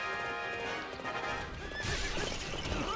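Evil Epona, a horse in the Hyrule Warriors video game, whinnies loudly and gallops with steady clip-clop hoofbeats that build in intensity toward the end, against a busy game soundtrack.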